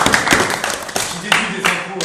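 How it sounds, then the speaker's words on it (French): Audience applause for a donor at a gathering, a short burst of scattered hand claps rising and falling over two seconds, close and moderately loud, with some voices mixed in. "Applaudissements."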